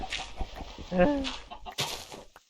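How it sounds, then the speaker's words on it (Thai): Minecraft chicken clucks in short, faint blips, mixed with quiet game sounds and a person talking. "ไก่ก็จะตกไปตลอดเวลาเลย"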